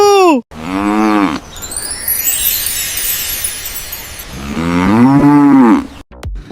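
Cattle mooing loudly and close, with two long drawn-out moos at the start and end framing a steady noisy stretch of livestock sound; no talking.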